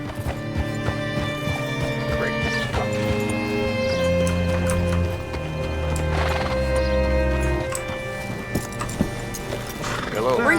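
Horse hooves clip-clop and a horse whinnies in a video game, steady footfalls running under a bed of game music with a brief neigh near the end, fairly close and moderately loud.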